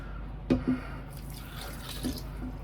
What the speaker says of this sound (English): 150 ml of water.